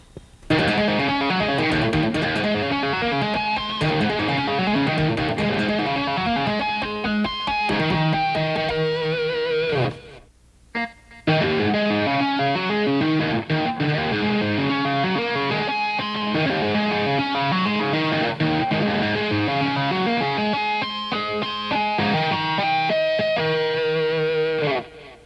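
Electric guitar playing tapped harmonics, a dense, distorted, bell-like cascade of notes that runs continuously and loudly, with one brief drop to near silence partway through before resuming.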